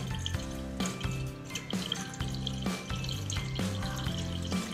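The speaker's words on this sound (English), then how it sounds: "And I use my fridge to give them water." Water from a refrigerator dispenser pours into a dog bowl in a steady close stream, broken by a few short clunks and pauses as the flow is restarted.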